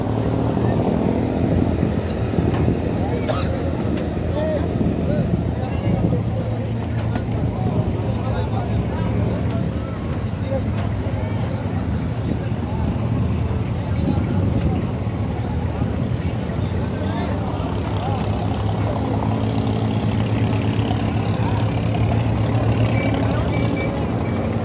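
Abra boat ride on Dubai Creek during an Eid evening, a steady low engine drone and water wash running continuously throughout, with faint background voices and ambient crowd noise mixed in.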